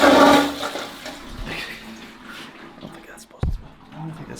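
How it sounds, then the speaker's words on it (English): A private bathroom toilet at a lodging flushes loudly up close, a rushing burst of water that fades into a trickling refill, ending with a sharp knock or clunk. "It's pretty good when you go to flush the toilet."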